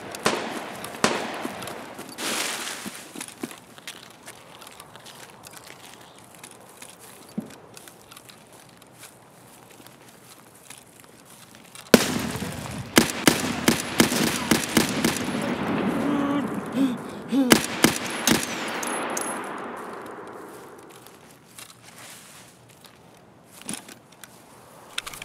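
Gunfire in the video game Escape from Tarkov sounds as sharp scattered cracks. They start sparsely, then come in a dense, louder cluster of rapid shots midway before tapering off again.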